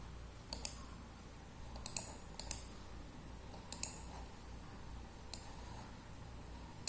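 Sharp computer mouse clicks, mostly single with a few quick doubles, spaced irregularly over a quiet room hum, close and fairly crisp.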